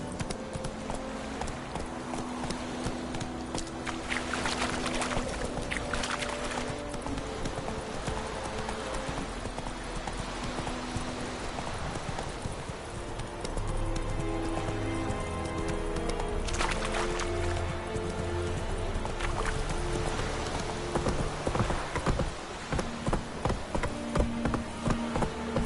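Horse hooves gallop in The Witcher 3 game, a steady rapid clip-clop running through the whole stretch over a dense bed of game music and ambience.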